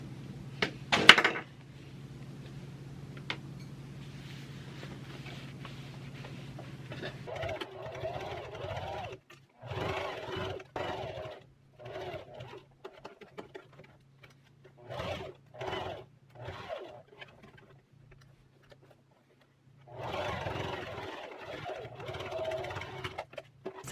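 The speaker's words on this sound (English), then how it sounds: "when I switch to top stitching the red pads, I will put a spool of red thread in my machine" Sewing machine top-stitching red thread onto washable cloth sanitary pads, running in several short bursts of rapid whirring stitches separated by pauses, close by, with a low hum in the quieter stretches.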